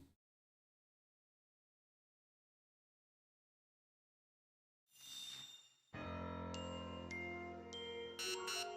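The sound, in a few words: low health beeps in Pokemon Legends: Z-A video game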